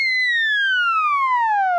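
Theremin tone gliding steadily downward like a siren, a clean loud whistle with bright overtones, one continuous slide heard alone.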